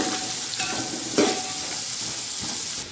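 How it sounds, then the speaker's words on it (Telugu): Carrots and beans frying in oil in a pan as a spoon stirs them, a steady close sizzle broken by a few scraping stirs, for a vegetable biryani. "క్యారెట్ బీన్స్ వేసుకొని ఇలా కలుపుకున్న తర్వాత"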